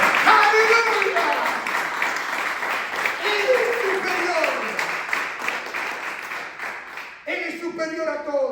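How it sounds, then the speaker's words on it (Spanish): A church congregation applauding Christ during a Spanish-language service, a dense wash of clapping that carries on steadily before ending, with a voice speaking over it at the close. "Denle un aplauso a Cristo"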